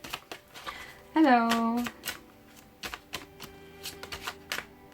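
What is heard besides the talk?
tarot cards being shuffled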